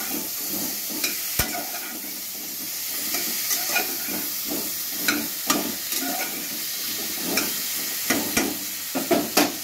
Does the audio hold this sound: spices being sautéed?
yes